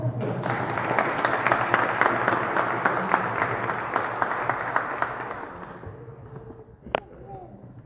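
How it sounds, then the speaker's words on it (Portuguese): A church congregation at a worship service applauds together, dense clapping that holds steady for several seconds, then fades out, leaving a sharp knock and quieter room sounds. "Mais uma salva de palmas."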